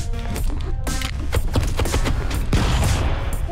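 Explosions and rapid gunfire from the Stick Fight video game crackle in dense, loud bursts, with repeated sharp blasts layered over a noisy game soundtrack.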